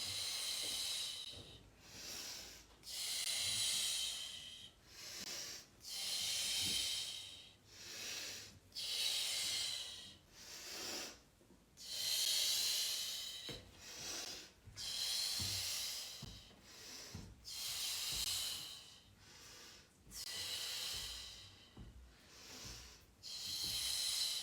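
Forceful hissing exhales alternate with quieter inhales during an at-home abdominal bodybuilding exercise, a steady rhythm of about a dozen strong breaths, close and breathy.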